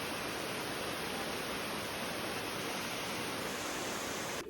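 A waterfall pours beneath a bridge, a dense, constant roar of rushing water that stays loud and unbroken throughout, with no voices present.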